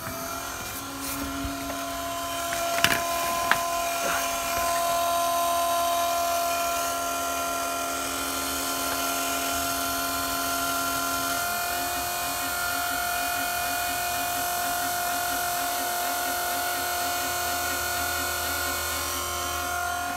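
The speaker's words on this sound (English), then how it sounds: "You put the key in. You hear the pump running." An electric fuel pump on a 5.9 Cummins truck primes after the key is turned, giving a steady whine that shifts to a pulsing hum partway through, under an ongoing mechanical background with a couple of sharp clicks early on.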